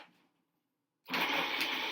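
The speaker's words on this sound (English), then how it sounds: "I'm just going to rip it up and throw it in my Roboco. Alright, let's grind it up." A food processor switches on abruptly after a second of near silence and grinds wilted soffritto vegetables with a loud, steady motor whir and chopping roar.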